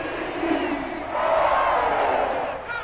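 A home crowd in the Madden 22 football video game roars steadily and loudly throughout, swelling slightly midway with a broad sustained cheer.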